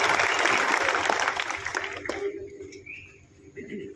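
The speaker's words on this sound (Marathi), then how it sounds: "आपण टाळ्या वाजवून सुप्रियाताईंचं या ठिकाणी मनापासून स्वागत." Audience applause welcoming a politician, a Member of Parliament, at a village gathering, loud dense clapping for about two seconds that fades out, leaving faint bird chirps and distant ambience.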